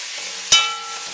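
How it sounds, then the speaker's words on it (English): Seasoned, marinated beef with tomato and green onion being stirred in a curry pot, giving a single brief scrape against a faint sizzling background. "So just continue adding the seasoned beef to the pot and keep stirring"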